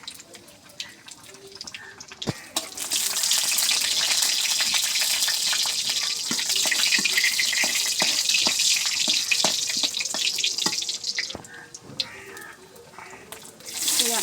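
Dried chilies sizzling in hot oil in a wok, a loud close hiss that swells abruptly and holds steady for many seconds before fading, with faint clinks now and then.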